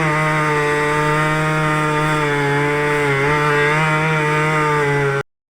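Power saw at building works outside a house, a steady loud whine with a strong sustained drone and rich harmonics, running continuously for about five seconds before cutting off abruptly.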